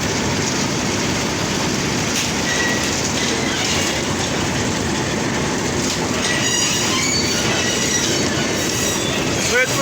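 A train rolling past the Saidpur railway workshop, heard from aboard: a loud, continuous rumble of wheels on rails with high metallic squealing and faint clacking throughout, close and unbroken.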